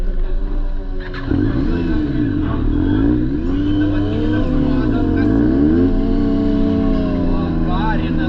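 A motorcycle engine kicks in and revs repeatedly, its pitch rising and falling in loud, close surges over several seconds.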